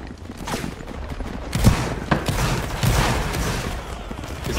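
Musket volley gunfire in the Napoleonic Wars video game, a ragged fusillade of overlapping shots crackling and booming at middle distance over a noisy battlefield background.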